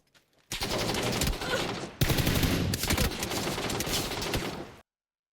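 Rapid bursts of Mini 14 rifle fire in the PUBG battle royale video game, loud and close, in two long strings of quick shots with a brief break between them and no talking.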